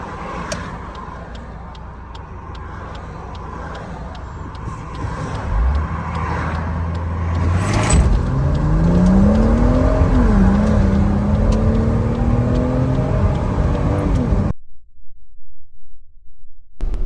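A car on a stock tune launches from 0 to 100 on a gravelly surface, engine roaring loud and close as the pitch climbs steadily through the gears with a brief dip at a shift, then cutting off abruptly.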